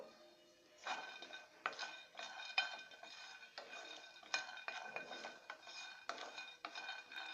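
Peanuts dry roasting in a heated pan without oil, with steady scraping and clinking of a utensil against the metal, a continuous rattling stir at moderate, close level.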